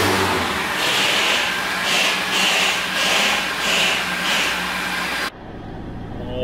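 Mercedes-AMG car engine running with a loud, throaty idle that pulses rhythmically several times before cutting off abruptly, then quieter background hum follows.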